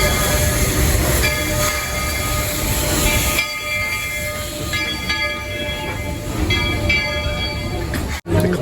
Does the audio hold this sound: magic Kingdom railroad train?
yes